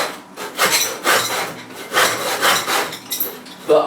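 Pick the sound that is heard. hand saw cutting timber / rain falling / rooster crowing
hand saw cutting timber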